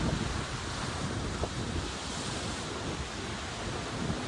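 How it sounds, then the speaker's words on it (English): Wind and rough sea surf roll onto the Holy Island shore during a fishing match, a steady broadband roar with gusting wind buffeting the microphone throughout. "Sea's starting to pick up now. You can probably hear that in the background."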